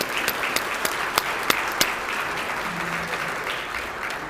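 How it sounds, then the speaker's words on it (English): An audience at a chamber of commerce luncheon applauds its speakers: steady, dense clapping of a moderate-sized indoor crowd, with a few sharper individual claps popping out above the wash. "Let's have another round of applause for our speakers"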